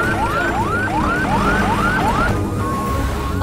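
An ambulance siren wailing in a Hindi dubbed film, a rising whoop repeated about seven times at a steady pace, loud and close, ending in a held tone.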